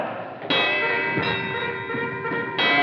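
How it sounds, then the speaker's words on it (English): An electric alarm bell rings continuously and loudly, its harsh clanging briefly pausing and restarting in bursts. "Ring the alarm bell!"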